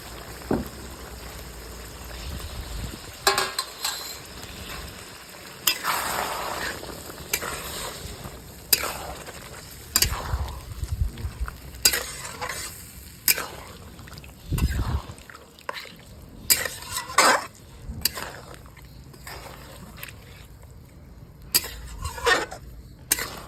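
Kashmiri chicken masala sizzles in a pan while a spoon stirs and scrapes it at irregular intervals, producing bursts of louder crackle and metallic knocks over a steady frying hiss, heard close up.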